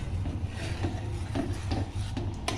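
Spoon scraping thickened milk skin off the sides of a pan while stirring rabri, a series of soft rasping strokes repeating close by, with no talk.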